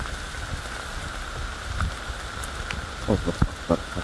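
Heavy rain falls in a steady hiss on surfaces outdoors, with a few louder drips and taps toward the end, quiet and continuous with no talk.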